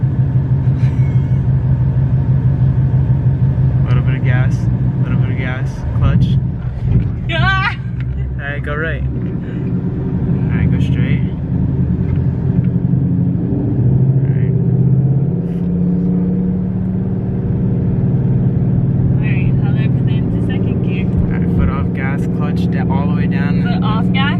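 Manual Mustang engine idling and revving as the driver works the clutch and gas, a steady low rumble with mild surges, while people talk over it throughout.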